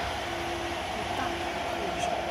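A high-speed KF94 fish-shaped mask-making machine driven by 17 servo motors, rated at 120-160 masks per minute, hums steadily and continuously, with a voice talking over the drone.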